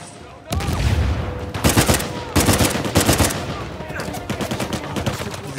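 Rapid automatic gunfire rattles in repeated bursts during a firefight in Uncharted 4: A Thief's End, loud and close, with short pauses between volleys.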